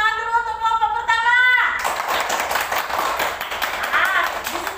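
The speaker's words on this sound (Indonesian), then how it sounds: "kita kasih tepuk tangan dulu untuk kelompok pertama." A class of fourth-grade primary school children applauding a group of classmates, a burst of dense, steady clapping that carries on for several seconds after a brief tonal sound at the start, with voices mixed in.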